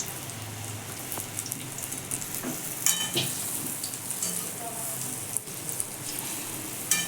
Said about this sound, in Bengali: আমি তালের বড়া ভাজছি